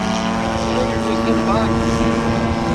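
An aerobatic airplane in an inverted departure during an airshow, its engine drone steady and loud throughout. The tone is strong and continuous with a slight pitch shift midway, and a commentator speaks over it.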